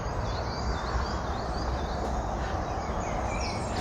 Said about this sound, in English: Also got some high-pitched wren song.